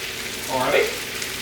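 Garlic dropped into a hot pan of sizzling veggie stir-fry, a steady frying hiss that swells briefly as it lands, then settles back to a constant sizzle.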